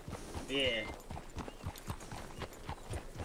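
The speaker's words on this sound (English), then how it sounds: "It's like the horse is moving, and you're moving with it." Horse hooves clip-clop at a steady trot in the Red Dead video game, an even run of close, crisp strikes with a brief voice-like sound early on.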